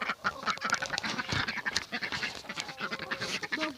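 Ducks quack repeatedly in a busy, close cluster, their nasal calls overlapping over a steady farmyard background.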